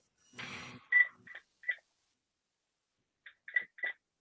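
Telephone keypad tones beep during a committee meeting held by phone: a short noisy rustle, then three quick beeps, a pause, and three more beeps, all close and clear.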